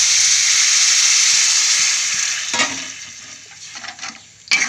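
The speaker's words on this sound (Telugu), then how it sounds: "చూసారు కదా మరుగుతుంది ఇప్పుడు" Egg curry (egg pulusu) in a pot, a loud steady bubbling hiss of steam that fades after a couple of seconds, then a few clattering utensil or lid knocks close by.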